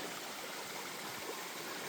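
A small stream flows with a steady, soft rushing and trickling of water, faint and constant with no voices.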